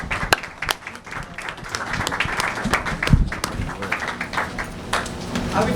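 Audience applause for business simulation presenters at a 2017 event: a dense, steady wash of many hands clapping together, sustained for several seconds with a few sharper individual claps standing out, and some voices mixed in.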